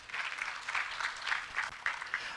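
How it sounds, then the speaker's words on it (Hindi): Audience applause at a poetry recital celebrating a birthday, a short burst of brisk, rhythmic clapping from a modest crowd heard close and clear with little else. "तो एक बार बत्रा जी के लिए तालियां बजनी चाहिए।"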